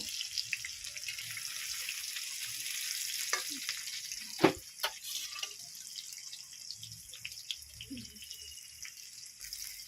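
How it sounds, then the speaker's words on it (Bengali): Onions frying in hot oil with whole spices in a wok, a steady close hiss of sizzling with a few soft scrapes and clinks from stirring near the middle, no talking. "আর কিছুক্ষণ পেঁয়াজগুলো একটু লাল করে ভেজে নেব।"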